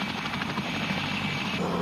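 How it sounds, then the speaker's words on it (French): A heavy, aging Polish-built Mi-2 helicopter flies at the 1989 world helicopter championship in Chantilly, its rotor and turbine making a steady, loud, continuous drone with no talk. "leur hélicoptère, le Mi-2 de fabrication polonaise, lourd et vieillot"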